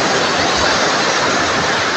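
Sea waves washing onto a shore give a continuous, broad rushing wash, loud and close, with no voices.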